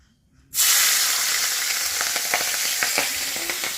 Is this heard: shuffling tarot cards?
no